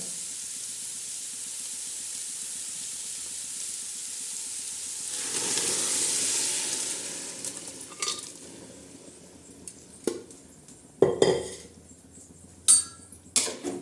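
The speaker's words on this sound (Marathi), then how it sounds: "हे पूर्ण असं हलवून घ्यायचं" Pulao rice with peas being stirred in a pot: a steady soft scraping and shuffling, then sharper clinks and knocks of a spoon against the pot's metal rim in the closing seconds, with no talking.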